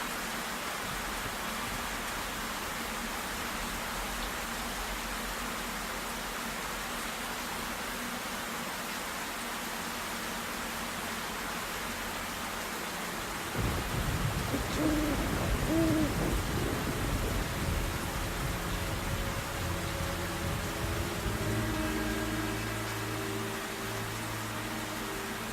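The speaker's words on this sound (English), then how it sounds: "Rain, rain, go away." Steady rain hisses throughout a scene in the video game Black Mirror III, with a deeper rumble of thunder rolling in around the middle and lingering low to the end; no talking.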